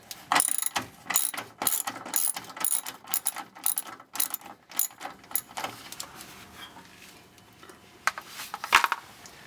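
A hand ratchet loosens 10mm bolts on a Nissan 350Z sway bar bushing, giving close, crisp bursts of rapid clicking with brief pauses between strokes, fading toward the end before a final few clicks.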